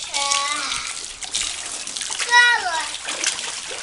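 Water splashes and pours over children playing, probably in a bath or small pool, with bright splashing mixed under excited kids' voices shouting and talking close by.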